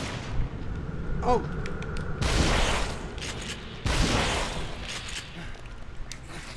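Gunfire from a handgun in The Evil Within, a survival horror video game: two loud, broad blasts roughly a second and a half apart, with a brief voiced exclamation early on and steady game ambience underneath.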